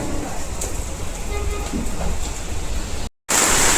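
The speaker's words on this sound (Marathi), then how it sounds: "खतरनाक पाऊस चालू आहे" Heavy monsoon rain in Pune pours steadily as a dense, loud broadband hiss, close by and continuous, with a brief dropout near the end before it resumes.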